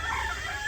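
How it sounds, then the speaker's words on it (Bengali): Chickens cluck and a rooster crows in a village yard, the calls close and fairly steady across a short moment under a faint outdoor background. "কণ্ঠ শুনে মুরগিতে কেমন ডাক পারে"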